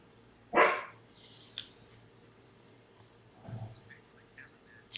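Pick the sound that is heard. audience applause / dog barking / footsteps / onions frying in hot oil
dog barking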